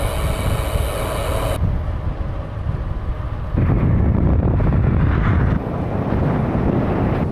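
Strong wind buffets the microphone on a bicycle ride through rolling Austrian countryside, a steady roaring rush that grows louder and rougher after a few seconds, with no voices.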